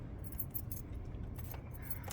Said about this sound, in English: Here's the keys.